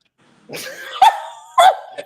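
An American Bully XL dog barks close by, a quick series of three loud, rough barks with a short yip at the end, heard alone in a quiet room.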